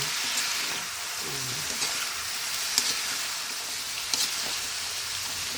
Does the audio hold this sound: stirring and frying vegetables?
yes